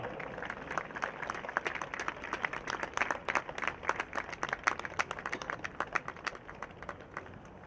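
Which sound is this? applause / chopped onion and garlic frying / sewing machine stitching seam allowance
applause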